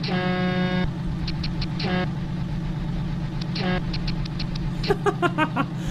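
A synthetic Kenworth W900 standard truck horn in American Truck Simulator honks in several bursts, a long blast followed by shorter toots, over a steady low engine hum.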